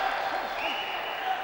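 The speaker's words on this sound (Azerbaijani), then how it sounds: "İndi tribunalardakı bu alqış sədaları da məhz" Spectators in the stands applaud during a +91kg wrestling final between Arslanbek Mahmudov and Kamran Mehdiyev, a steady crowd clapping heard beneath a commentator's continuous talk.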